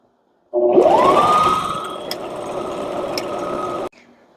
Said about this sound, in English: we are just going to stitch up and down over the elastic a couple times